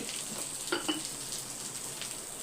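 Grated coconut sautéing in a pan for a chutney, a soft steady sizzle with a couple of brief stirring scrapes, fairly quiet and close, no talking.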